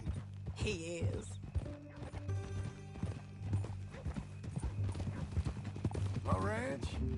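Horse hooves clop in Red Dead Redemption 2 beneath people talking, with a horse whinnying near the start and again near the end.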